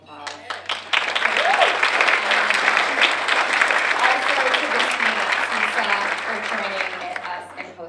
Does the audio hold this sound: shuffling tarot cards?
no